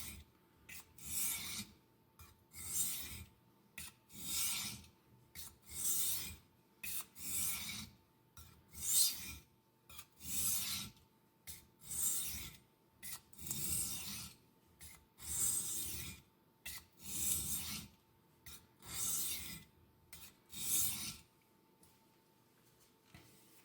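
A Victorinox paring knife is sharpened on a DMT coarse diamond plate in repeated rasping strokes, each a few hundred milliseconds of gritty scraping separated by short pauses, close and fairly quiet.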